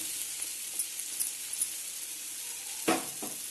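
Masala for an okra curry fries in a pan with a steady sizzle, and a spoon stirs it now and then. Near the end comes a louder scrape and clink of metal. No one speaks.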